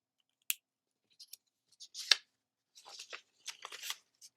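Scissors snip small circles out of white paper in short, quiet, irregular cuts separated by silences, close up with no talking.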